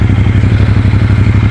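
Stock-exhaust motorcycle engine running loud and close, a steady throbbing idle with even rapid pulses and no talk over it.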